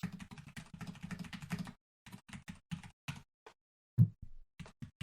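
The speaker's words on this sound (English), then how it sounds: "I'm typing the free cheese." Keys clatter on a computer keyboard in quick bursts of typing broken by short pauses, with one louder thump partway through. The sound is close and clear, and no one talks over it.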